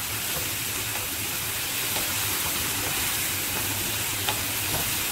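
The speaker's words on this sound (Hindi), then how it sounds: "इसमें सबसे पहले डालते हैं हम आलू, ये मैंने बारीक चॉप कर लिए हैं। इसको हल्का सा फ्राई करेंगे पहले।" Finely chopped raw potatoes frying in oil in a frying pan, giving a steady, loud, dense sizzle that carries on throughout with no pauses.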